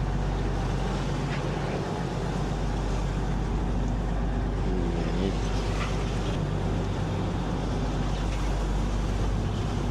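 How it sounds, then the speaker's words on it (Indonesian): Rough sea waves wash and churn in the west wind season, a continuous heavy roar with low rumble, as if heard from aboard a boat, with no distinct voices. "Guys, ombaknya."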